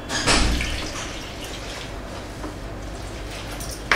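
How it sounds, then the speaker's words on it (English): Warm water is poured into a dry mixture in a bowl, a close, soft trickling and splashing that swells at the start and then runs steadily, with no talk. "Then start pouring in your warm water."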